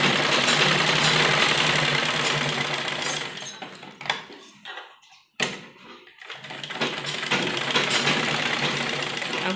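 A sewing machine stitches along the marked curved line of a kurti cut from printed fabric, running steadily and loud, then falling quiet for about a second before the motor starts up again.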